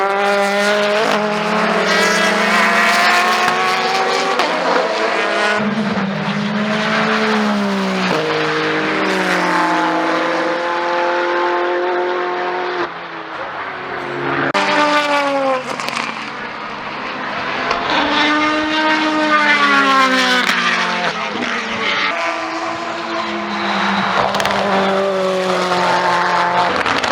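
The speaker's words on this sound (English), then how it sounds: "You can probably still hear the cars whizzing around behind me, and they're still doing it." Racing cars at the Le Mans 24 Hours sweep past trackside continuously, engines howling loud with rising and falling pitch as several pass in quick succession, no voices.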